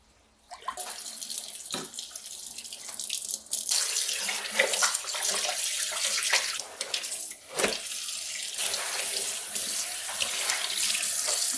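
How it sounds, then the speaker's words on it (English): A sink tap runs steadily with water gushing and splattering, rising and falling slightly as dyed fabric is rinsed under the stream, no talking. "the water is now coming out clear, which means we are done rinsing"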